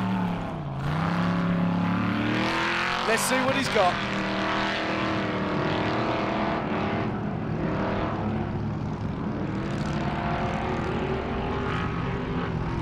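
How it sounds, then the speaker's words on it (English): A 1982 off-road race car launches off the start line at King of the Hammers qualifying, its engine snarling and revving upward in a loud rising sweep, then holding a strained roar as a commentator talks over it. "Donald Fisher, the 1982 car, is off the line."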